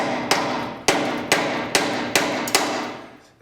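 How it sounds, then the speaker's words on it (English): A hammer drives a galvanized pipe against the muffler of a wheel loader during repair, six loud metallic strikes at a steady, slightly quickening pace, each ringing briefly before the next, close by with no talk. "I'm just taking a piece of pipe here, galvanized piece of pipe, and hammer here and move this just a bit."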